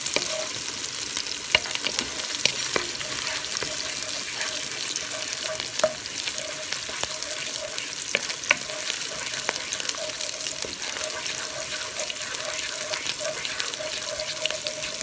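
Rice and peas being gently stirred in a cooking pot with water, a steady bubbling simmer and soft sizzle with intermittent spoon scrapes and clicks, moderately close, no talking.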